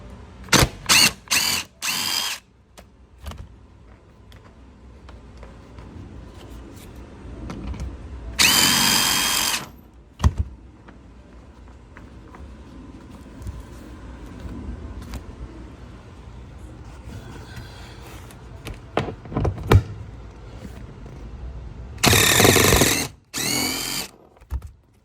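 A power tool works a 13 mm bolt loose on a vintage MG TD sports car in several short, loud bursts of whirring and ratcheting, separated by quieter stretches of handling noise.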